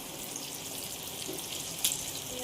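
Water trickles steadily into curry masala paste for a kupa fish curry, a faint continuous pouring with one brief clink near the end, heard alone.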